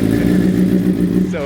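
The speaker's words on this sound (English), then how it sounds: "They wanted to hear the giveaway bike, so we're gonna let them fire this thing up." A Yamaha V-Star motorcycle engine runs loud and near with a deep, throbbing idle, while a voice seems to talk over it toward the end.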